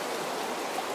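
Water of a hill stream flowing near its source, a steady broadband rush with no break across the second, moderately loud and heard alone.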